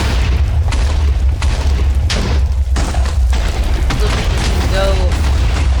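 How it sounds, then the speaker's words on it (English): Huge explosions from the Attitude Adjuster weapon in the Minecraft Orespawn mod, a run of loud booming blasts in quick succession with someone talking and exclaiming over them. "whenever you hit anything, it creates the largest explosion"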